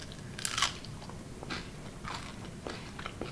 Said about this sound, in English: I look for that delightful crunch.